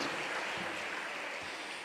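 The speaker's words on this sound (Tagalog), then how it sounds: "Isang malakas na palakpak para sa mahal na Panginoon." Steady applause from a congregation at a church service, continuous clapping with no break for the whole moment.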